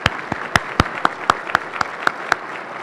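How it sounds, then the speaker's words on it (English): At a keynote economic forecast event, the audience claps in sparse, crisp, evenly spaced claps for a few seconds, close and fairly loud, with no voices over it. "Let's give a round of applause for Riverview."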